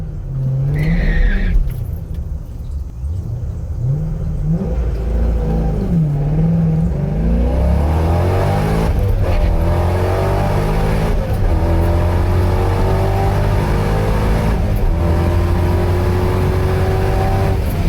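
A C5 Corvette with stock cam and heads accelerates hard down a quarter-mile drag strip, the engine note climbing through several gear changes in a loud, sustained V8 roar close by, alone without talk.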